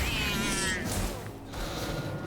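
A cat in the video game Don't Die, Minerva! gives a loud meow in the first second, set over game music and effects.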